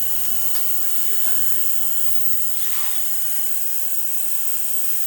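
A small ultrasonic bath cleaning fuel injectors gives a constant electric buzz and hum, steady and moderately loud, with faint brief clicks over it.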